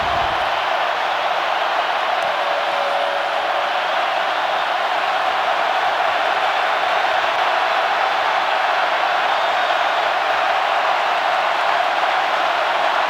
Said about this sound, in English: listen to this crowd now